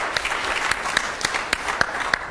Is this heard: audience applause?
yes